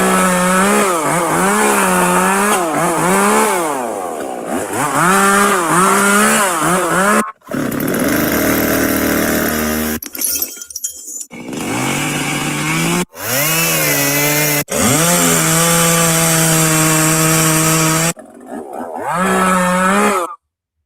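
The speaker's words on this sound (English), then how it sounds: "So let's go through some chainsaw sounds again here." A video game chainsaw revs loudly in repeated bursts, its pitch rising and falling, with several abrupt cuts and short silences between runs.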